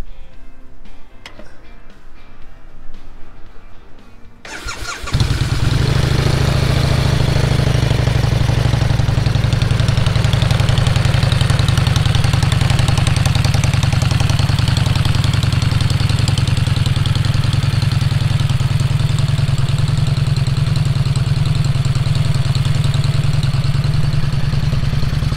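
Excelsior-Henderson Super X motorcycle engine starts after some quiet handling noises, then idles loudly and steadily nearby with a deep, even rumble and light mechanical clatter, with no talking.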